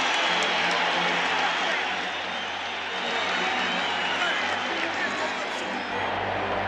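A Rockies home crowd at a baseball game roars after a sacrifice fly ties the score at 1-1, a broad, sustained wash of cheering and clapping heard from a distance.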